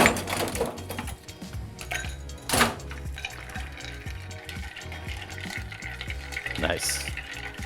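A sherry-based cordial cocktail with citrus is stirred, giving a steady run of soft, close clinking and swishing strokes over low background music, with a few sharper knocks along the way.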